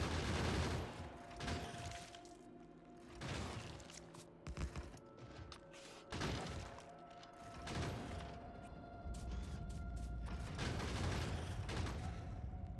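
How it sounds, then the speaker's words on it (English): Rapid sustained bursts of gun turret fire in Factorio, dense rattling volleys that swell and continue almost without pause, loud and alone. "Seeing the effectiveness of these guns"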